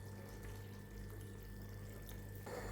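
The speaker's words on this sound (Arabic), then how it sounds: "راح نزيد لها قيس كاس ماء سخون" Hot water poured into a frying pan while cooking pan pizza: a low, steady liquid rush that brightens and swells near the end, with no voices.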